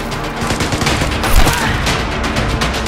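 Gunfire in Vigor, a dense burst of rapid shots and impacts layered into a loud continuous clatter with a heavier thump midway, no voices.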